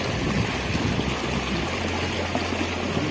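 Water rushes and gurgles continuously at close range as it flows from pipes into a canal, a steady loud flow with a faint low hum underneath.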